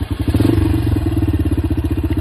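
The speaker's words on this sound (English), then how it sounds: "I'm on a motorbike." A motorcycle engine idling close by, a steady rapid throbbing putter with a slight rise at the start.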